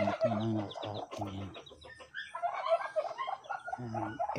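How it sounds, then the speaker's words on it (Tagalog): Chickens clucking close by in short repeated bursts, with a rooster-like call mixed in and scattered bird chatter between them. "Pero ngayon may manok na nga sa akin."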